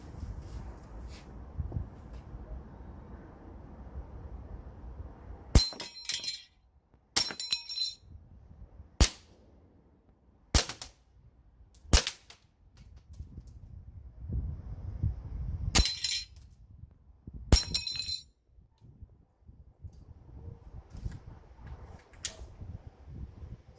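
A Tokyo Marui full-size USP airsoft pistol fires at a Texas Star steel target, producing about ten sharp metallic clangs at irregular intervals over quiet, low background noise.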